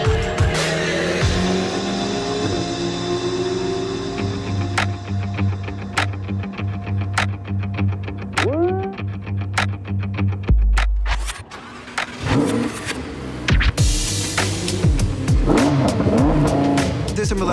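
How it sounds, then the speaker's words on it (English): A Lamborghini Huracan screams around the Speed Vegas race track, its engine revving hard through repeated upshifts, with abrupt gear-change cracks, downshift blips and a brief tire squeal, loud and close throughout. "And we're going to be doing 7 laps here inside the Lamborghini Huracan."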